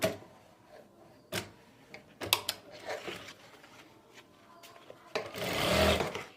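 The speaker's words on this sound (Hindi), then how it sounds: "अब यहाँ से हम सिलाई लगाएंगे।" Sewing machine stitching a folded half-inch hem around a farshi shalwar over elastic, short mechanical whirring runs separated by pauses, ending in a longer, louder burst of stitching.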